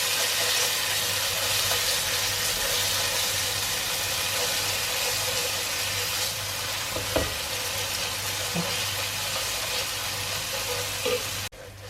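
Onions fry in a pan with ginger and garlic paste, giving a continuous broad sizzle under a low steady hum, with an occasional clink of a utensil and a sudden cut-off at the end.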